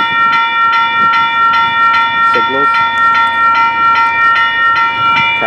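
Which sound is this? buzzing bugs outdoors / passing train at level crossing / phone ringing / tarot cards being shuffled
passing train at level crossing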